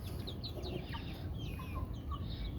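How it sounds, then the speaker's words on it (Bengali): Free-roaming chickens clucking at night near a light, with several soft overlapping clucks and calls close by over a steady background hum. "আমার মুরগিগুলো ছেড়ে দিয়েছি"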